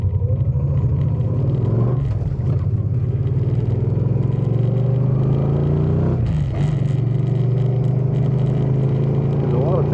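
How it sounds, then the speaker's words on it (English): Heavy road traffic rolls past during rush hour, a continuous loud rumble from passing cars with engines swelling and fading, heard from a 2013 Suzuki Boulevard M50 motorcycle, whose low engine drone runs underneath throughout. "I believe there's like some commute rush hour traffic stuff going on"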